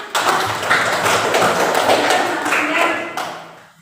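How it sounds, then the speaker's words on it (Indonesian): Children clap their hands together in a classroom, a dense run of close, sharp claps lasting a few seconds before trailing off. "Tepuk tangan anak-anak"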